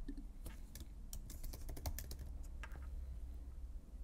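Quiet keystrokes on a computer keyboard as a name is entered, a quick irregular run of soft clicks clustered near the middle over a low background hum.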